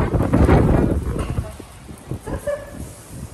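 Gusty outdoor wind before a summer rain buffets the microphone in a loud, rumbling burst at the start, then eases into softer intermittent gusts with faint background sounds.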